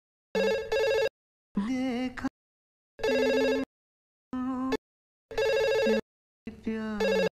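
A telephone ringtone plays six short, loud electronic musical bursts of about half a second each, separated by brief silences, with no talk over them.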